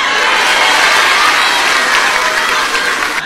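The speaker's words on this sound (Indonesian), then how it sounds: "Tepuk tangan dong ibu-ibu." A crowd applauding loudly during a political parody skit, a dense, close wash of clapping that holds steady and then eases slightly near the end, with faint cheering mixed in.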